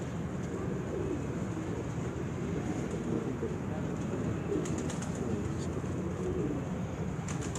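Pigeons coo softly in the background at a Gujar Khan pigeon-flying championship, with outdoor murmur and wind around them.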